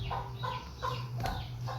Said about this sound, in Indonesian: Dia sesekali melihat ayam yang lagi mematok-matok atau mencari makanan